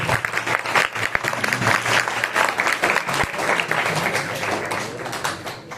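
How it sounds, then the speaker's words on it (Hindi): An audience at an Arya Samaj annual gathering in Noida applauds in welcome, steady dense clapping that fills the room for several seconds with no talk over it. "एक बार तालियां बजा करके अभिनंदन करेंगे"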